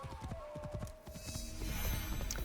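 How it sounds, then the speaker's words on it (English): Horse hooves clip-clopping in the video game Assassin's Creed Shadows, a quick run of hoofbeats up close that fades into a brighter, noisier game soundscape. "It's definitely a horse."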